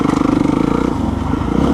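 A Kawasaki KX race motorcycle engine running nearby, a steady rapid pulsing drone that shifts pitch slightly partway through and briefly swells at the end.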